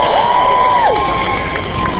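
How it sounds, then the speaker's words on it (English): A crowd at an anti-racism march in London cheers and shouts in a steady roar, with one high whoop or whistle standing out early on. "Give me a round of applause again"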